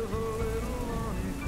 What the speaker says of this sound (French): De la pluie.